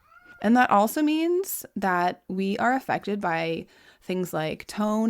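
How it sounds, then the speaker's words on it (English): A cat meows several times, its drawn-out cries mixing with a person talking nearby. "if you hear my cat meowing in the background"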